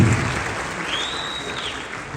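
Audience applause at a film premiere, a steady wash of clapping from many hands that holds at an even level throughout, with a brief whistle-like tone rising and falling in the middle.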